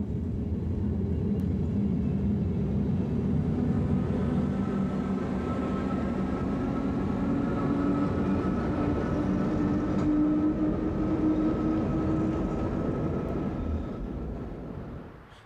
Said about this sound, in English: It's a service operated jointly by Dutch and Belgian railways, with Dutch railways providing the coaching stock and Belgian railways supplying the traction.